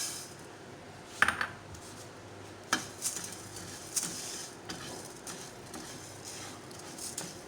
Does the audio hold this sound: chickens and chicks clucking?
no